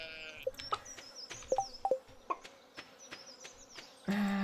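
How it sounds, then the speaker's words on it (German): Stardew Valley farm game: a sheep being sheared, with a series of short bleating calls and crisp game sound effects over a faint buzzing background, ending in a louder burst of game audio. "würdest du jetzt bitte mal das Schaf scheren?"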